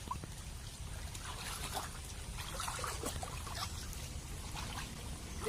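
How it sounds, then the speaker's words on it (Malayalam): Floodwater in a yard trickles and flows steadily, a soft continuous rushing with faint splashy ripples, quiet and unbroken throughout. "നിറയെ വെള്ളം കയറി കിടക്കാണ് കേട്ടോ"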